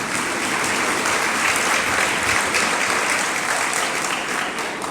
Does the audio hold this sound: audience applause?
yes